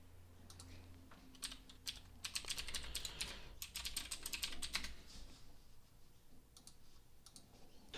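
Fingers type on a computer keyboard while Python code is entered, producing quiet, irregular bursts of clicking key presses with short pauses, close by and heard alone over faint room hum.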